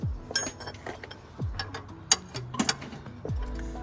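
18 mm socket wrench ratcheting on a seized bolt during a roadside suspension repair on a BMW M2, short bursts of clicking with a few metallic clinks, close and fairly quiet, no talking.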